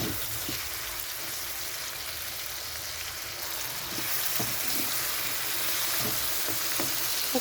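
Ground spices with salt and turmeric sizzling steadily in hot oil in a pan for a fish curry, a continuous close frying hiss broken by occasional stirring taps and scrapes.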